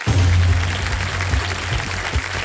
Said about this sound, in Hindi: सबसे पहले तालियां बज जाए, जोरदार तालियां सबके लिए